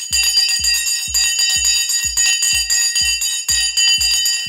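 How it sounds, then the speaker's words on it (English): Market opening bell ringing rapidly and continuously, a bright metallic clanging with about nine strikes in steady rhythm, loud and close with no voices. "The bell has now gone."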